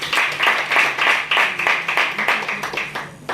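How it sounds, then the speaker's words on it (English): Loud, rhythmic applause from an audience at a student project and staff innovation competition, claps falling into a pulsing unison beat of about three per second, close and prominent. "A round of applause, please."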